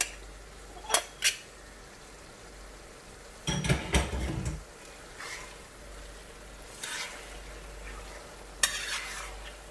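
A spoon stirs mashed roasted eggplant with green chillies in a pan for baingan bharta, giving a few sharp metallic clinks, a dense scraping burst in the middle and quieter scrapes later, with no talking.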